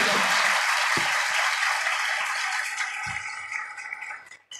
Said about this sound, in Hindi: जोरदार तालियां खुदा के जलाल के लिए बजाइए।